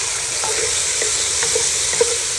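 Deer meat and paste browning in a pot give a steady sizzling fry, with a few soft stirring clicks and scrapes spaced through it at close range.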